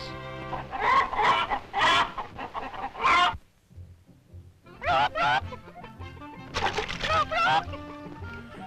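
Cartoon chickens in a 1941 animated short cluck and squawk in loud, quick bursts, a pause of near silence splitting two busy stretches of excited calls.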